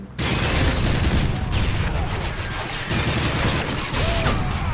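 Gunfire and a grenade explosion from a video game match, a dense continuous barrage of shots and blasts running loud throughout with no pause.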